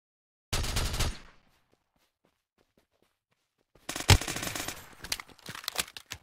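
Video game gunfire: a sharp burst of automatic fire, then silence, then a louder rattling volley with a strong crack and trailing shots, all close and without talk.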